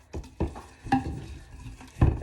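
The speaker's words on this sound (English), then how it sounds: "Give it a really good stir." Sourdough starter being stirred with warm water in a jar, giving a few uneven scraping, wet knocks against the glass that come close up, with quiet gaps between them and no talking.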